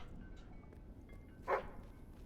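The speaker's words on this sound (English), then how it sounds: "Dog." A single short dog bark in the video game Fable 3, fairly faint and brief against a quiet ambient game background.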